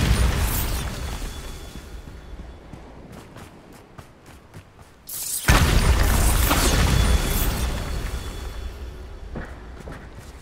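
Bombarda blasting spell in Hogwarts Legacy: a loud sudden explosion with a deep booming burst, preceded by quieter clicks and rumble, then a lingering roar and a second fainter blast.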